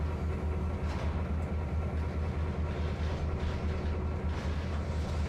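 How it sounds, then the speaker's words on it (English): A diesel freight train rumbles steadily past in Trainz 2022 on Midwestern rails, a continuous loud low drone with rolling wheel noise and no voices. "That sounds like the train we just left"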